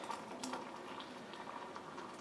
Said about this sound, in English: here's my boiling hot water